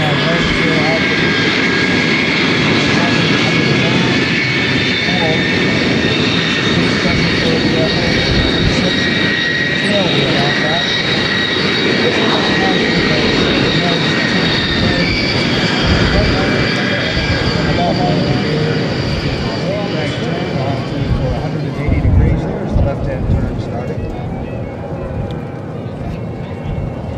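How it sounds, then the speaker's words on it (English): A Lockheed U-2 spy plane flies in to land at Beale AFB, its engine a loud, steady roar with a whining tone that holds through the whole stretch, a narrator speaking over it. "Now, the landing of a U-2 is a very unique event."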